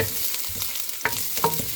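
Onions, ginger and garlic sizzle steadily in a hot pan, with occasional scrapes and knocks of stirring breaking through the constant crackle, loud and close with no talking.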